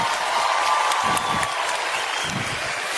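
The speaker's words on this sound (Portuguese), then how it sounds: "Uma salva de palmas para o Multishow." A concert crowd at a live sertanejo show applauds in a dense, steady wash of clapping, with a few scattered shouts and whistles rising above it.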